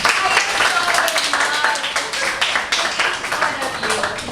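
Audience clapping for students at a youth leadership program event, a dense, fairly loud patter of many hands with a busy, slightly uneven texture, with voices mixed in.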